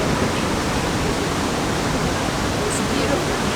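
A waterfall at Bamboo on the Langtang trek in Nepal gives a dense, steady rushing hiss of falling water. It sounds close and constant for the whole stretch.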